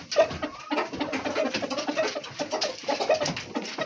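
Chickens cluck and call in short repeated bursts, fairly close, over a steady murmur of background bustle with no talking.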